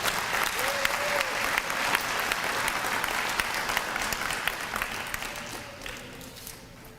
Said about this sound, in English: Another round of applause for all of our middle school Gold Key students.